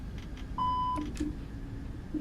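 A few short electronic beeps in the cockpit of the Aerosoft Airbus A330 in Microsoft Flight Simulator 2020, one longer tone followed by repeated brief low blips, over a steady background hum.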